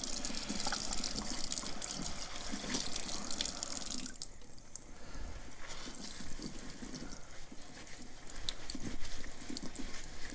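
Hot water runs from a tap while leather gloves are washed with soap in a sink, a steady hiss and splatter with shifting drips and sloshes as the gloves move under the stream.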